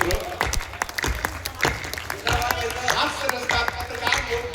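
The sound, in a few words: audience clapping at a poetry gathering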